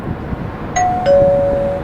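A bright bell rings twice in quick succession over a low murmuring background. The second ding is longer and rings out steadily to the end.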